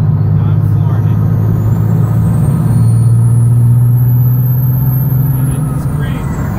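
12-valve Cummins diesel truck at full throttle, a loud, steady low engine drone heard from inside the cab as it rises slightly in pitch, with a faint high whine above it.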